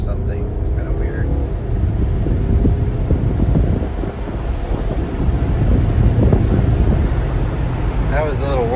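A 2014 Mercedes-Benz GLK250 Bluetec 4Matic diesel SUV accelerates from 0 to 60, heard from inside the cabin as a steady, loud low-end engine and road roar with wind noise that swells slightly toward the end, with no talking.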